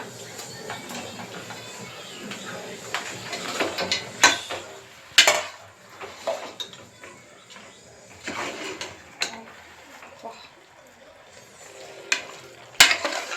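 Pieces of chicken sizzle in a hot pan amid scraping and clinking of a utensil, with sharp bursts of stirring and frying noise.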